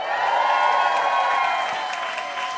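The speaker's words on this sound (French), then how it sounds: "Continuez d'applaudir" Live comedy show audience in Montréal applauding in a steady, dense wash of clapping that holds evenly for a few seconds, fairly loud and without talk over it.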